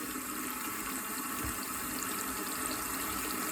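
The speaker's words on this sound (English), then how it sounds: "I'm going to turn on the cold water." Cold water pouring steadily from a bathroom sink tap, a continuous close hiss of running water with no pauses.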